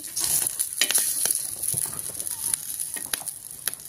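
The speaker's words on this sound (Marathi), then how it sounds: "आता उलटी पालटी करून घेऊया मिरची आपण दुसरी बाजू भाजून घ्यायची" Green chillies roasting in oil in a pan on low heat, a gentle crackling sizzle with scattered clicks and taps as they are turned over, close by.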